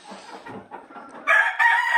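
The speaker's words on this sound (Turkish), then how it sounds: "Bu da fizan bir horoz çıktı" A three-year-old Fizan rooster crows loudly nearby in a chicken coop, a strained, drawn-out call rising over softer clucking and farmyard murmur at the start.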